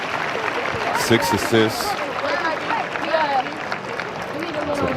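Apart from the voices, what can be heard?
crowd applause at basketball game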